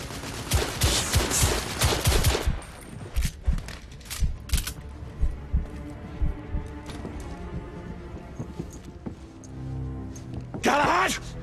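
Heavy gunfire in the video game The Order: 1886, with dense bursts of rapid shots early on, scattered single cracks after, and a final loud burst near the end, mixed with voices.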